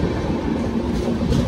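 The Mumbai Mail train passes on the line near Igatpuri, a loud dense rumble of wagons and wheels rolling by steadily and close throughout, with no voices.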